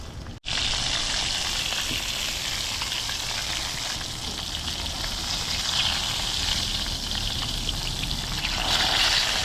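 Flounder fries in hot oil, a loud, steady, close sizzle and crackle that runs continuously after a brief gap at the start, with no talk.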